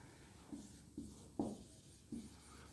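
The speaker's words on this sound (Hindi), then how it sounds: "यहाँ पर हम लोग नोट में लिखते हैं," A pen writes notes during a chemistry lecture, giving four quiet, brief scratching strokes spaced about half a second apart against a faint room hush.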